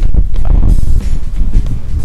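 Strong beach wind buffets the microphone in loud, continuous low-frequency rumbles and gusts, with a brief drop in force midway before the blustering picks up again.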